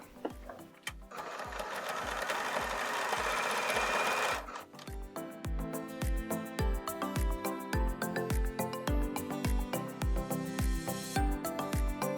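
A domestic sewing machine stitches darts on a fabric face mask in short bursts. It starts with a sustained whir, then gives a rapid regular thump of stitches while reversing, close and fairly quiet, with no talking.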